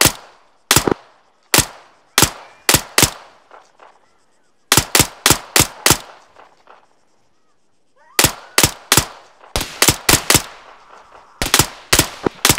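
Machine-gun fire in a video game firefight near a road and roadblock, heard as loud sharp bursts of a few rounds each, separated by short silences and ringing echoes, with no talk over them.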